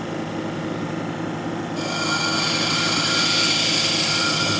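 Brazilian agate cabochon pressed against a 220 grit cabbing wheel, a steady close grinding whir with water hiss that grows louder and brighter partway through as the stone meets the wheel, continuing without pause.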